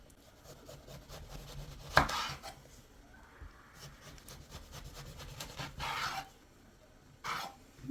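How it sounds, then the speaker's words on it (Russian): A knife slices a peeled eggplant into thick rounds on a cutting board for eggplant steaks, giving soft, close chopping and rubbing strokes with a few sharper cuts, and no voice. "Когда удалили всю оболочку, нарезаем слайсами, примерно на 3-4 части."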